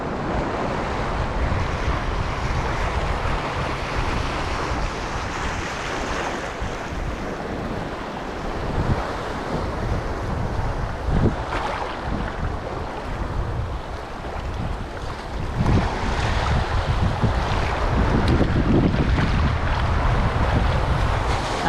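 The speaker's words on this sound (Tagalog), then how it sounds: "Alon." Ocean waves and gusting wind surround a small boat heading home through a rough sea. The broad, steady roar of surf and wind noise fills the whole stretch with no talking.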